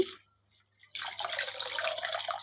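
Running water from a tap pours over ingredients being washed for a lentil dish, a steady close splashing stream that starts after a brief pause and a few soft sounds, with no talking.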